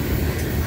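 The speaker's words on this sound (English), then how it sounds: "This is a loaded coal train, y'all." A loaded coal train rolling past, heard as a continuous low rumble and rail noise, steady and fairly close, with no voices.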